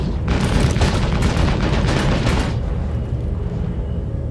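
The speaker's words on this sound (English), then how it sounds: "Then the player fired again." Rapid gunfire from another player's ship in Star Citizen, a dense loud burst of repeated shots for about two and a half seconds, then a lingering rumble as the barrage fades.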